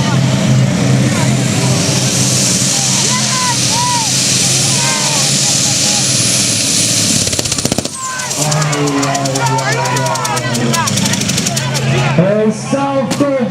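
A 2800 hp diesel tractor-pulling machine roars at close range, a loud, rough, continuous engine blast with rapid rattling pulses, under an excited commentator and crowd at an outdoor tractor pulling event.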